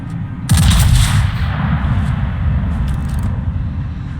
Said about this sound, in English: He got a pretty good salvo on that